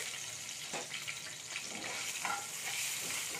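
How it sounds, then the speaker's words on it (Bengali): Steady hiss of spices and turmeric frying in hot oil, with faint crackles and occasional soft scrapes, close and continuous without any voices. "এই দেখুন এখানে আমার এটা ভাজা হচ্ছে"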